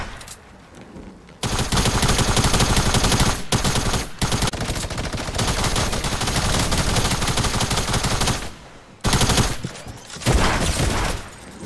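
Dense video-game gunfire, including minigun fire, comes in long loud rattling volleys broken by brief pauses, with several short bursts near the end.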